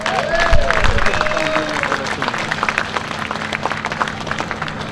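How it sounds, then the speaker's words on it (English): A crowd at an outdoor Fleet Week closing ceremony in Los Angeles breaks into loud applause with scattered cheers and whistles, strongest at the start and then settling into a steady patter as voices carry underneath. "Give yourselves a round of applause."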